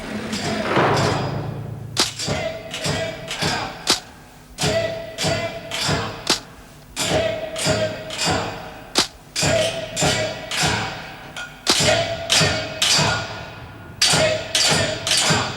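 Prisoners in a women's prison cell block bang on a cell door for help, making loud, close, repeated thuds in uneven bursts of several blows with short pauses between.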